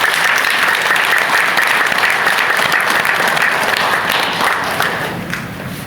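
A church congregation claps together in steady, dense applause that holds loud for several seconds and then tapers off toward the end.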